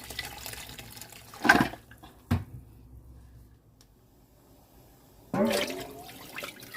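Water poured into a pot of Korean beef bone broth made with Hanwoo bones and shank, a short gushing pour, a brief splash, a quiet pause, then another longer rushing pour, close and without speech.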